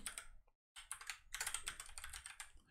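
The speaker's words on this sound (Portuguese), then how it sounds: "Deixa eu dar um enter aqui." Close computer keyboard clatter, a quick burst of key presses, a short silent gap, then a longer flurry of typing with the Enter key pressed, crisp and near.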